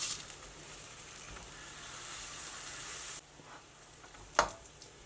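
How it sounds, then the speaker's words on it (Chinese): Glutinous rice cakes pan-fry slowly over low heat in a thin coat of oil, giving a steady close sizzle and hiss that drops quieter partway through, with a brief clink near the end. "我们在全程小火慢煎，煎到底部金黄时"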